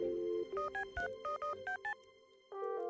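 Telephone keypad tones from the Stardew Valley video game, a run of about eight short two-note beeps in quick succession between a steady dial tone at start and end, clear and alone.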